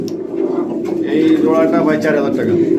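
Large pigeons at a breeding farm coo in low, throaty, rolling calls nearby, loud and continuous, with a person talking over them.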